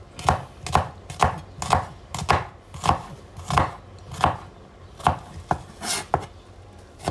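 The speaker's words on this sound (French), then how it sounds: "Mon oignon, vous vous rappelez, on coupe le petit bout." Knife chopping an onion on a cutting board: a steady run of about a dozen crisp, evenly spaced chops, close and clear with no talking.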